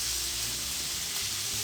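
Hake fish sizzling in hot oil in a wok, a steady bright hiss of frying that stays constant and close for under two seconds, with no voices.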